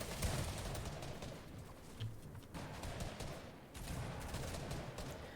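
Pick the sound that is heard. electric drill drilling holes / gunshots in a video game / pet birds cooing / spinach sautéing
gunshots in a video game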